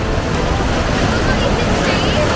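Ocean waves break at Nusa Lembongan in Bali, a loud continuous roar of surf mixed with wind buffeting the microphone.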